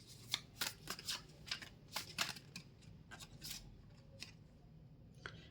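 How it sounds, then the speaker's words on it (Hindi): Tarot cards being shuffled up close: quick papery riffles and slides in uneven bursts, sharp flicks scattered over a quiet room background, with no voices. "बाकी कार्ड्स में शफल करती हूँ"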